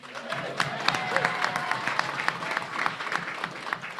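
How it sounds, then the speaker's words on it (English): Steady audience applause at a school select board meeting, many hands clapping evenly throughout, moderately loud from a seated crowd with faint voices underneath. "she deserves a round of applause anyway"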